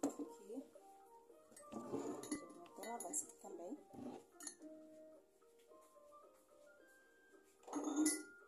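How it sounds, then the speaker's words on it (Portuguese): Dishes being washed after baking a carrot cake: pots, glass and cutlery clink and clatter in bursts at close range, with someone talking between and over the clatter. "Agora eu vou lavar aqui a louça"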